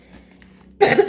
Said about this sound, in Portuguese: eu não queria tossir assim no momento, porque é até chato, mas saiu sem querer